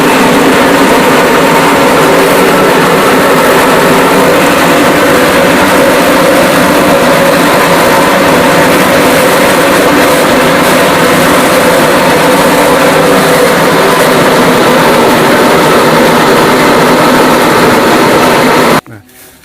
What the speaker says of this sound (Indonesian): masukkan ke dalam mesin chopper ini